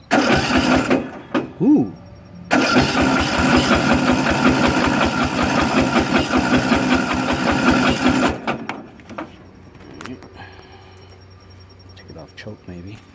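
Craftsman 13.5HP riding lawn mower engine cranking on choke, a loud rapid chugging that runs for several seconds, then cuts out and leaves quieter clicks and rattles, with a brief voice exclaiming.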